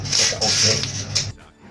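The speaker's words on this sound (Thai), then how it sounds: "เดี๋ยวก็ต้องเอาไปขูดกาวหน่อยนึงครับ" A tool scrapes glue off a salvaged LED light in short rasping strokes, a few close, harsh scrapes that stop near the end.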